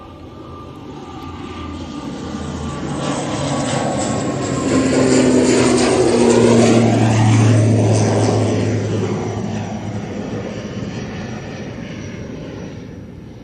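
A Qatar Airways Boeing 787 takes off close by, its engine roar swelling to a loud peak midway and then slowly fading, with a steady broadband rush throughout.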